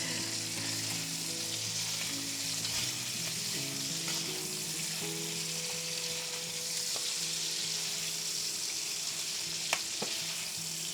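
Smoked sausage alfredo stirred in a pan, with steady frying sizzle throughout and occasional soft scrapes and clicks of a utensil, close and continuous with no talk.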